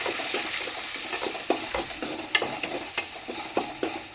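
Okra (bhindi) fry sizzles steadily in a pan while being stirred, with a bright continuous frying hiss broken by repeated scraping clicks of the spoon against the pan, close and loud, with no talking.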